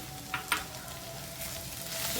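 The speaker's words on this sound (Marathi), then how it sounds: "कांदा आपला लगेच भाजतो ह्याच्यात एक वाटी खोबरं घालून" Chopped onion and grated coconut frying together in a pan, a soft continuous sizzle with a couple of brief clinks from stirring early on, close by and without voices.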